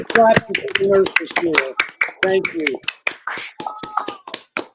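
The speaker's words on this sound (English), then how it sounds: "everybody's clapping out the window here on Bleecker Street" Neighbours on Bleecker Street clap out their windows for nurses on National Nurses Day, sharp separate claps ringing at an uneven rhythm with people talking and cheering over them.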